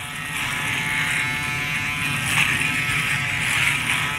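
Norelco Philips and Panasonic AA battery electric shavers run while shaving a face, giving a close, continuous high-pitched motor buzz with slight swells as the cutters move over stubble.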